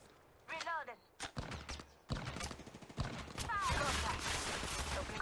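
Rapid bursts of gunfire from the mobile shooter Apex Legends Mobile, sharp repeated shots crackling loudly in clusters, with in-game voice lines chiming in between the volleys.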